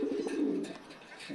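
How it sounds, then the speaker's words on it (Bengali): Kajal-eyed pigeons at a farm give a low soft coo, faint and close, with a second short coo near the end. "এটাও কাজল চোখের কবুতর"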